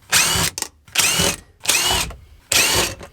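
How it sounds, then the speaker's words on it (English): Four Phillips head screws being driven out of a fuel pump access plate with a power driver: four separate whirring bursts, each about half a second, close and alone. "So we're just gonna remove these 4 screws."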